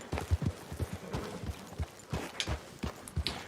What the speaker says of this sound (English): Oh, just some wild horses.